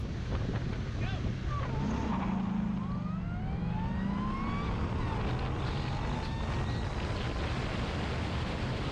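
A Dodge Viper and an Audi S4 launch in a drag race, engines roaring and rising in pitch as they pull away, with wind buffeting the microphone and a voice talking over them.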